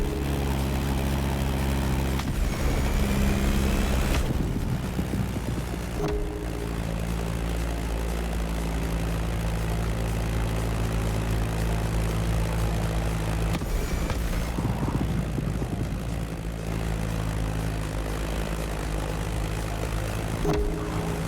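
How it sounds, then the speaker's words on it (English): Propeller drone of a Beechcraft Staggerwing biplane engine in The Crew Motorfest racing game, a steady loud droning hum held throughout with shifting pitch as the plane swoops, no talk. "That Beechcraft Stagger Wing is truly a beautiful piece, isn't it? And a great choice for that flight."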